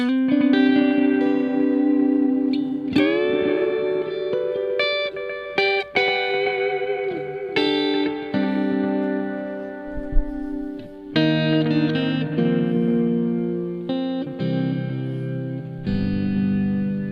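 Electric guitar notes and chords ring out with a shimmering, wobbling modulation and trailing delay repeats, played alone and fairly loud for the whole stretch.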